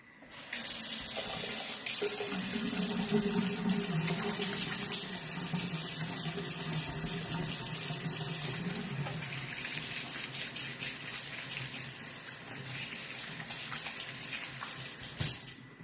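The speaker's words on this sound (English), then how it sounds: "I'm just going to now give my hands a good wash." Hands scrubbed under a running kitchen tap, a steady close splash of water that carries on without a break, with the pitch of the flow shifting as the hands move through the stream.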